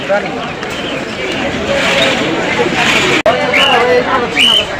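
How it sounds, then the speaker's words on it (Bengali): Pigeons coo amid a busy crowd babble, with people talking nearby over the steady murmur of the Mirpur-1 pigeon market in Dhaka. "বিভিন্ন কোয়ালিটি এবং বিভিন্ন কালারের ফ্লেজার কবুতরা আছে"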